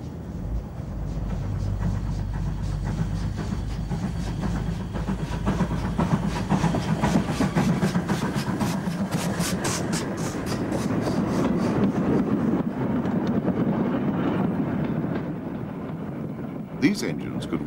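A GWR 2251 class 0-6-0 steam tender engine, designed by Charles Collett in the 1930s, runs with a continuous rumbling roar and rhythmic rail clatter, steady and fairly loud throughout.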